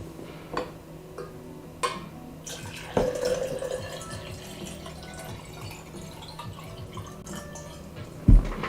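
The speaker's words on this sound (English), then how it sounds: "Let me get some water real fast while you guys solve the mate in 2." Tap water runs and drips into a sink, a faint, steady trickle with a few louder drips and clinks scattered through it, heard alone without talk.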